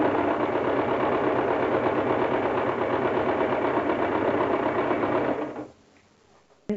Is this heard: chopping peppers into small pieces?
no